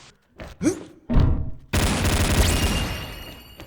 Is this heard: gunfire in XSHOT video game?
yes